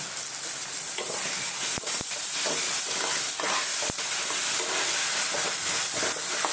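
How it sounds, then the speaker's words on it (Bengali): Onions and tomatoes fry in a pan with a steady, close sizzle and hiss, broken by a few sharp clicks of stirring, and no voices. "যখন ওই পেঁয়াজ টমেটো ভাজছি তখন একটু চিনি দেবো"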